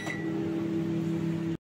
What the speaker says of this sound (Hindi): इसे रखेंगे हम अपने पैनासोनिक माइक्रोवेव ओवन में, माइक्रोवेव पावर लेवल 100 पे इसे हम देंगे 2 मिनट का टाइम